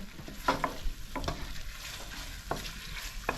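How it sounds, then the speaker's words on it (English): Curry paste simmering and sizzling in a pan, a soft continuous fry crackle broken by a few sharp scraping stirs and clacks of a utensil against the pan, close and moderately quiet. "once the paste is simmering and cooking off a bit"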